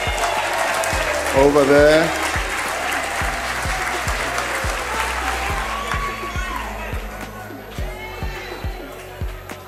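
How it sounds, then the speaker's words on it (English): A large audience applauds and cheers loudly in a parliamentary chamber as a guest comedian is welcomed, dense sustained clapping with voices talking over it and a brief shout. "I never get this type of applause, so I'm jealous"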